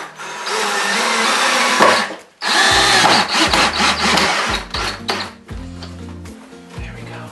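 A power drill whines close by as it drives a screw into a wooden floating shelf, one long steady run followed by several short bursts with the motor pitch rising and falling.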